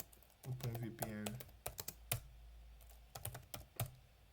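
Clicky keystrokes on a computer keyboard entering a sudo apt-get install command for OpenVPN on Kali Linux, a run of fast taps with short pauses, heard close under a voice talking.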